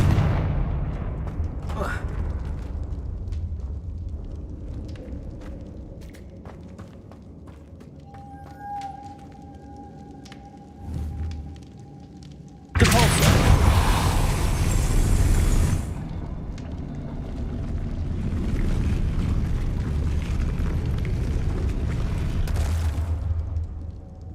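A Confringo explosion spell goes off in Hogwarts Legacy: a sudden loud, broadband blast lasting a few seconds, followed by a sustained rumbling roar, preceded by quieter spell effects and ambient game sounds.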